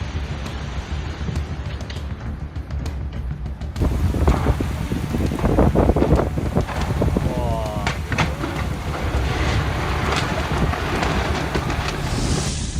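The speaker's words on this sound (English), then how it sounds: "This is wind blowing in Turkey, and always remember no one can stand in front of it." Strong wind in Turkey roars steadily, a loud broadband rush that rises after a few seconds and stays heavy, with buffeting against the microphone.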